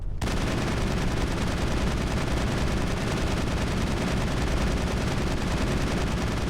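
Continuous, dense vehicle cannon fire rattles nonstop while strafing around a Thresher Maw in Mass Effect, loud and unbroken from start to finish.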